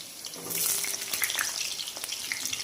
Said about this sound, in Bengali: তো আলুগুলো এখন তেলে ছেড়ে দিচ্ছি, একটু ভেজে নেবো লাল লাল করে।